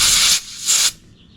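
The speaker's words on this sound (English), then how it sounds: "See if just a little air cleans it out," Compressed air hisses through a clogged pilot jet from the carburetor of an Aprilia RS50 fitted with an XR100 engine, in two short close bursts followed by a faint tail.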